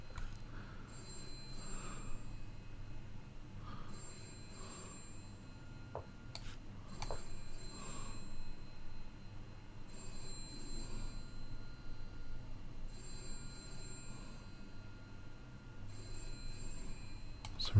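A phone rings faintly in the background during a five-minute blitz chess tournament, its repeated electronic trills coming in short bursts over steady room hiss with no talking.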